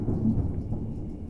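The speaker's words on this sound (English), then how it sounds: "that was big thunder" Deep, loud rumble of thunder during a nighttime thunderstorm, rolling steadily through the whole moment with a faint wash of rain behind it.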